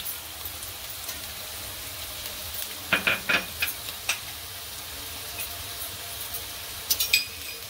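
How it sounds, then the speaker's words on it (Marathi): Carrot, cabbage, beans and onion stir-fry in oil with a faint, soft sizzle, punctuated by a few clustered scraping and clicking stir strokes, fairly quiet and without speech. "या भाज्या ना चांगल्या तेलावर परतून घेऊया, क्रिस्पी असं झाल्या पाहिजे।"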